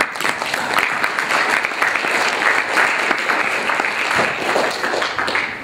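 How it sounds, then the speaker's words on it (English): An audience claps steadily for several seconds, a dense, even burst of applause from a room full of people. "this is a good time to give them a hand of applause for that"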